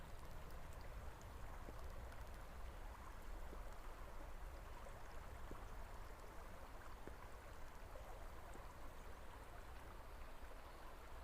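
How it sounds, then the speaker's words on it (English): Soft, steady rush of a river tumbling over rocks in a Scottish country park, faint and continuous, with no voices. "the sound of the river coursing over the rocks"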